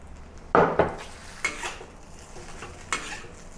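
A spatula or utensil scrapes and knocks against a pan while glass noodle stir-fry with sesame oil, scallion and egg is stirred, giving a few short, close scraping strokes over a faint sizzle.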